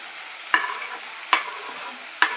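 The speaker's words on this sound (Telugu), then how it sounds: "ఇప్పుడు ఉల్లిపాయలు పచ్చిమిరపకాయలు వేసేసుకుందామండి" Onions and green chillies go into a pan of carrots for egg fried rice, three sharp stirring scrapes over a constant soft sizzle.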